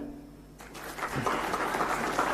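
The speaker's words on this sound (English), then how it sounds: "If you agree, please clap." Applause from the audience at a quantum technology workshop in Andhra Pradesh begins after a brief quiet hum and swells into steady, moderately distant clapping from a large hall.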